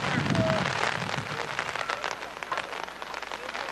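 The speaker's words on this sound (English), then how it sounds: "Raining harder than it has now in the last hour as big shower and a big dark cloud over top of Roxana Park." Heavy rain shower pours down at a high school baseball game at Roxana Park, Marquette vs Roxana, a dense steady hiss of drops that fills the whole moment without letup.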